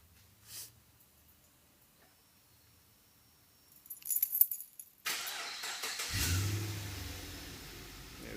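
A Holden VE Commodore fitted with a remote start kit fires up on its own, a short burst of cranking that settles into a steady close idle after faint clicks and a jingle of keys.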